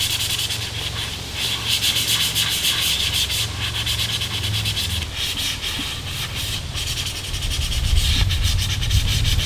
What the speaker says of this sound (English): go over the entire thing with anywhere between 200 and 400 grit sandpaper and then sand the entire thing